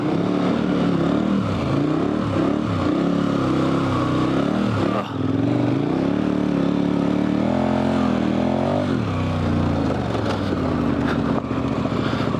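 A dual sport motorcycle on Heidenau K60 Scout tires rumbles loud and steady over rocks, its engine note rising and falling with bumps and throttle changes while rattling clatter runs underneath.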